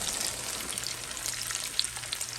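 Chile relleno coated in egg batter fries in hot oil, a steady close bright sizzle with fine crackling pops throughout and no voices.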